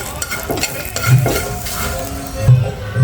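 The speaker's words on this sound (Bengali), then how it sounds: "মরিচটার ভিতরে একটু লবণ দিয়ে দেবো মরিচটা অনেক সময় টাইট থাকবে আর হালকা তেলে ভেজে নেব" Salted chilies fry in a little oil, giving a steady close sizzle broken by a few scraping stirs and light clinks of a utensil against the pan.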